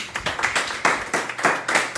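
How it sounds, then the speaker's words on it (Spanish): A church congregation at a Sunday service claps along in a quick, uneven patter of many hands. The applause is close and steady for a couple of seconds, with no voices over it. "¿Podemos darle un aplauso a Dios?"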